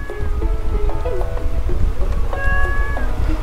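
A cat meows several times in the farming video game Stardew Valley, clear, tonal cries close up over a soft patter of rain, with a longer drawn-out meow near the end.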